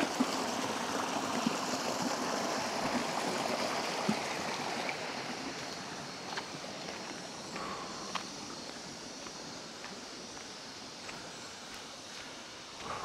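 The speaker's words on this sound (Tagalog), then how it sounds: "Ganda ng agos ng tubig." The stream at Malaking Tatiao Falls in Silang, Cavite rushes in a broad, steady wash of flowing water, with a few faint knocks and taps over it.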